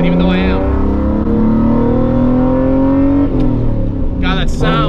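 A Nissan 240SX with an RB20 engine and S300 turbo accelerates under boost, heard from inside the car as a loud rising engine drone that climbs in pitch, drops at a gear change, then builds again as a voice speaks over it.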